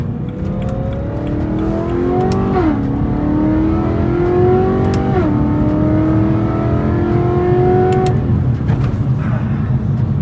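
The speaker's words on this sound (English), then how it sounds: "Man, this car sounds amazing." A BMW E92 M3 engine drones loudly from inside the car, revving up through the gears on a freeway with two clear shifts where the pitch drops before climbing again.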